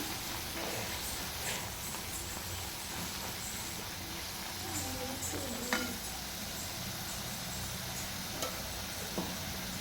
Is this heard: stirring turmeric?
yes